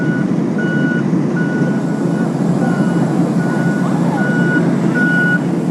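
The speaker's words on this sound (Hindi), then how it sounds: "ये बर्फ हटाने वाली गाड़ी है।" A snow removal truck reverses in a cold, snowy place, its loud backup alarm beeping at a steady, evenly spaced rhythm over a continuous heavy engine rumble.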